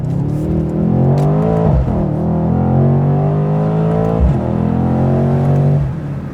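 A 2019 Mercedes-AMG C63 S with 503 horsepower accelerates hard, its engine roaring up through the revs in loud, close pulls, each broken by a brief dip at a gear change.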